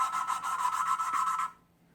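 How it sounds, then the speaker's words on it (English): An engine valve is lapped by hand against its seat with a traditional palm-rolling technique. It makes a steady, close rasping grind with rapid back-and-forth pulses for about a second and a half, then stops abruptly into near silence. "You'll notice that it went from a kind of a low-pitched grinding noise to a very high-pitched noise."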